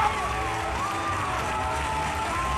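A school crowd at the El Grito 2014 event cheers and whoops for a band, with a wash of shouting voices and some clapping, moderately loud and continuous.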